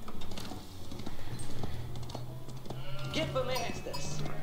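Sheep bleating in the medieval strategy game Age of Empires IV, a short wavering bleat near the end over a steady low game ambience, with clicking and a voice nearby.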